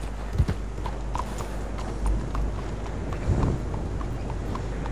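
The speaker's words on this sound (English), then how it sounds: "நல்ல கனமான குதிரையா உனக்கு கொடுங்கப்பா. நல்லா பிச்சுக்கிட்டு ஓடணும்." Horse hooves clop in a steady galloping rhythm in Red Dead Redemption 2, close and clear over low wind noise, with a few heavier thuds along the way.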